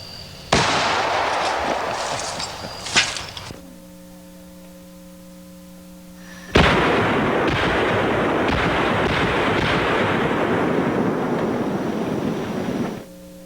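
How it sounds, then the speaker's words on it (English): A jungle gun, a rapid-firing weapon likened to machine guns, fires two loud, close sustained bursts: a short burst of about three seconds, a pause filled by a steady low hum, then a longer unbroken stream of about six seconds. No one speaks. "the jungle gun really doesn't give up anything to machine guns of a lot of different types"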